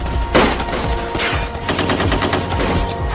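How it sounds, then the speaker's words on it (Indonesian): Gunfire from Dutch troops in an Indonesian independence war film, a dense fusillade of rapid overlapping shots and bursts, loud and continuous for a few seconds with no talking. "mereka dihadang oleh pasukan Belanda yang langsung memberondong secara membabi buta"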